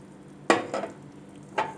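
Stirring lemongrass, galangal, shallots, coriander root and chilies into a pork bone soup: three quick scraping, splashing strokes of a utensil in the pot over a low simmering hiss, close and without talk.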